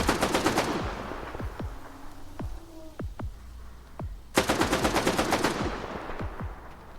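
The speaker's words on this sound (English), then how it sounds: "Someone's definitely shooting, though I can't tell if it's at me." Bursts of automatic gunfire in STALKER 2: Heart of Chornobyl, loud rapid volleys at the start and again near the end, with scattered single sharp shots between them.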